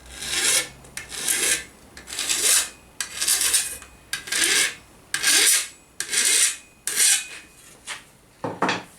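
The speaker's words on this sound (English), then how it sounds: "just take a file and just take it back gently" A hand file scrapes back and forth along the edge of a metal armour plate, making about ten regular, rasping strokes in a steady rhythm, close and clear with no talking.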